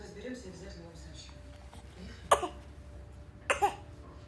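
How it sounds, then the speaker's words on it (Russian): A child coughs twice in a quiet indoor room, two short sharp bursts a second apart, each sounding close and clear over a low background hum. "3 раза чихнула, 2 раза кашлянула."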